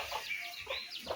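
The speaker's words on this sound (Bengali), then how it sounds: "আর মুরগির বাচ্চাগুলো" Young chicken chicks wander around indoors, giving a few quiet, high, thin peeping chirps in quick succession.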